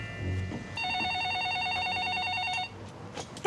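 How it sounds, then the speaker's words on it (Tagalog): A household telephone rings with a warbling electronic tone lasting about two seconds, fairly close, followed by brief faint clatter. "Ma, yung telepono."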